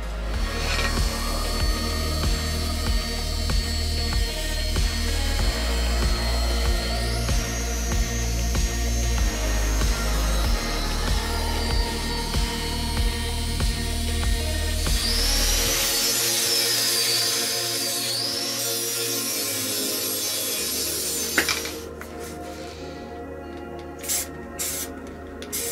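A power tool cuts a template for a part on a Renault 11 Turbo D project car, a long, continuous whining cut that shifts pitch, then stops and gives way to a few handling noises.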